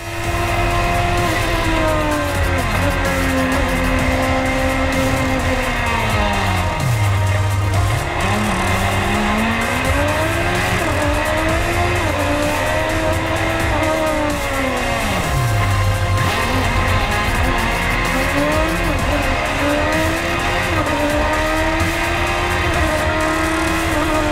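Race car engine climbing the Pikes Peak course, a loud continuous roar that rises and falls through gear changes and dips, heard close and unbroken throughout.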